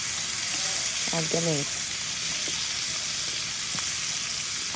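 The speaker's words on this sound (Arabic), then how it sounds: "هنزل بقى بالفراخ بتاعتي كده من ناحية الجلد، اديها لون حلو بقى" Chicken pieces laid skin-side down in hot oil give a steady, close broadband sizzle that continues throughout, with someone briefly speaking over it.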